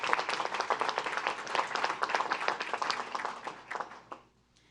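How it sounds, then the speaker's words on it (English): Audience applause at a New Orleans public schools event, brisk close clapping with individual hand claps audible, fading out toward the end. "Another round of applause."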